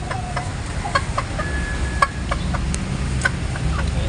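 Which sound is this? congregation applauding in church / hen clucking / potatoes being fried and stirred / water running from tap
hen clucking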